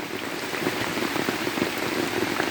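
Heavy rain pours steadily onto a flooded garden in southern Thailand, with water-soaked ground already overflowing; a dense, continuous hiss of rainfall on surfaces fills the scene, loud and close with no voices.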